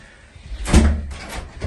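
An internal door from a small vestibule into a house's living space is opened, giving a single soft thud and rattle partway through, with faint room noise around it.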